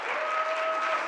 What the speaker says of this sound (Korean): 박수로 맞이할까요?